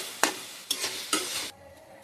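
Gongura chutney stirred in a cooking pot, three distinct scraping strokes with a spoon against the pot over a low sizzle, close and clear, then the stirring stops and a quieter simmer remains.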